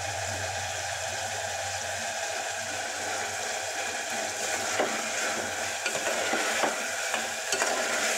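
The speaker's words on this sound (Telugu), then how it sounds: "ఇలా స్పూన్తో కలుపుతూ ఒక 5 మినిట్స్ వరకు అల్లం వెల్లుల్లి పేస్ట్ కలుపుతూ ఉడకనివ్వాలి" A spoon stirs ginger garlic paste frying in a pot for tomato mutton curry, a continuous sizzle with soft scraping strokes that grow a little more distinct toward the end, no voices.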